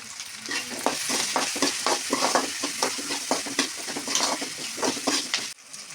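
Onions with asafoetida and rock salt sauté in oil for a garlic-pepper kuzhambu. Rhythmic spoon strokes scrape the pan over a constant close sizzle, then stop abruptly just before the end.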